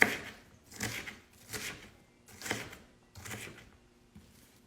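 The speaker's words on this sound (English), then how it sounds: "Be careful when you cut your onions." A knife chopping onions into tiny pieces, five or six soft, evenly spaced cutting strokes on a board, close and fairly quiet with no talking.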